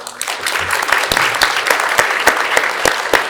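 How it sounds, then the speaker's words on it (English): Applause at a community action assembly meeting, a small group clapping close by in a quick, uneven patter with sharper individual claps standing out, steady from start to finish. "Can we get a round of applause for Whippiski Miskinak and Miriam, who've done such a great job so far?"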